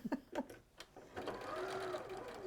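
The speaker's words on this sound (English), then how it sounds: "So you're just stitching in a square for added" A sewing machine stitches a square onto a blue and white check apron, its steady whirring run filling the latter half after a few brief taps and a murmured voice.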